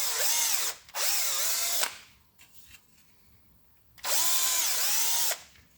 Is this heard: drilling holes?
yes